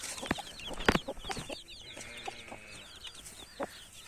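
Dense high-pitched bird chirps and clucks, many small calls overlapping nearby, with a few sharper louder peeps and brief knocks.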